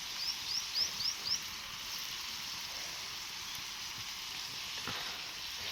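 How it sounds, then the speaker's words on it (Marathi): Chili tempering (phodni) with crushed peanut powder sizzling in a pan, a steady close frying hiss held throughout, with a few brief sharp crackles near the start. "आता देणार आहे मी मिरचीची फोडणी आणि शेंगदाण्याचं कूट"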